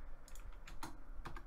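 Fingers type on a computer keyboard in a few quick bursts of clicks, quiet and close against a low steady background hum.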